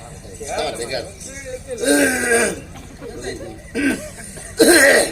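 A few harsh coughs and throat-clearing bursts come in short clusters, close by, mixed with brief voices and chatter.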